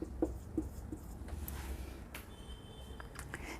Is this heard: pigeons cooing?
no